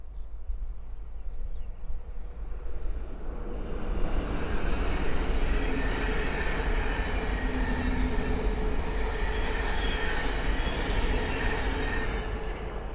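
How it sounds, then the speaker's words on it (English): A Thameslink Class 700 train approaches and passes on the East Coast Main Line at Great Wymondley, its rumble swelling after a few seconds into a steady, loud roar of wheels on rails with faint metallic squeal, no voices. "the next train to pass by is a Thames Link 700 from Peterborough to Horsham"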